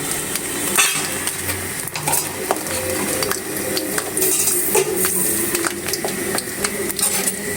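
Mango pieces dropped into hot foaming mustard oil in a pan, a dense continuous sizzle with scraping and clattering of a spoon against the pan, close and busy throughout.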